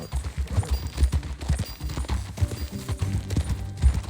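Hooves clip-clop in a quick, rhythmic gallop as a horse is ridden in Red Dead Redemption 2, close and continuous with faint background game sound.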